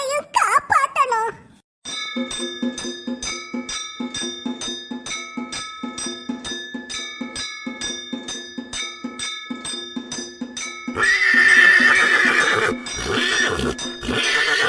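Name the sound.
horse neighing in a cartoon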